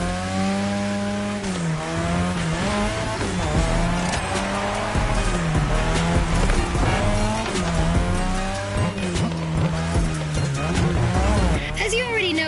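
A car drifts on a drift track in the racing game NFS Heat, with an engine revving up and down and sustained tire squeal, while a voice speaks over it.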